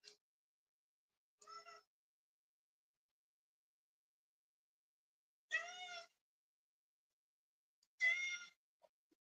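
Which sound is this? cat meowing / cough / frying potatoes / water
cat meowing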